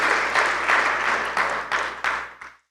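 A church congregation claps together in a sustained burst during a sermon, fairly loud with slight rhythmic pulsing, then stops abruptly into silence.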